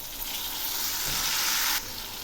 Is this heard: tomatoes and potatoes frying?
yes